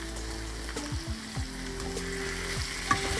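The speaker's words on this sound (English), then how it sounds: "I kind of just saute the veggies a little bit in with the oxtails" Vegetables sautéing with oxtails in a pan for a Jamaican-style dish, a steady close sizzle with occasional stirring scrapes and knocks.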